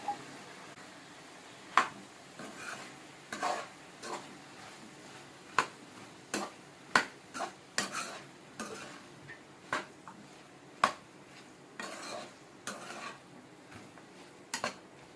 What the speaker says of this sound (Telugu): ఇందులోనే సన్నగా కట్ చేసి పెట్టుకున్నటువంటి బీరకాయ ముక్కల్ని వేసుకోవాలి